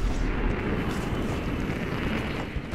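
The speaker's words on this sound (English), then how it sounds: "Enemy airstrike incoming." A continuous, heavy rumbling roar from an airstrike in the multiplayer shooter Homefront, dense and sustained, with no distinct separate blasts.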